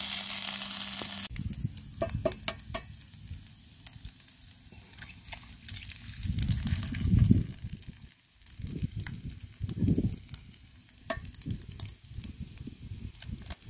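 Cooked rice warms in a pan over an outdoor heat source, giving a steady soft sizzle that swells and fades, with occasional stirring scrapes and clicks, moderately quiet throughout.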